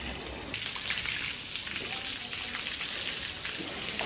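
Water is sprayed onto a buffalo at a dairy during evening chores, a steady, fairly quiet hiss of spraying and splattering that starts up sharply after a brief moment.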